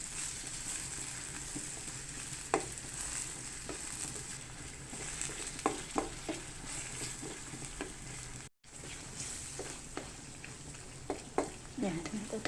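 Tomatoes sautéing in a pan while cooking boneless milkfish (bangus), a soft steady sizzle with occasional spoon scrapes and stirring clatter, with a brief gap partway through.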